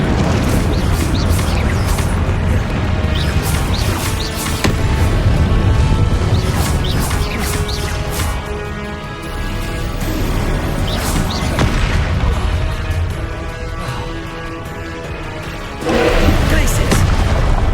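Repeated booming blasts and crashing impacts from Confringo fire spells in Hogwarts Legacy combat, loud and dense over continuous game noise, with bursts recurring every few seconds and a heavy hit near the end.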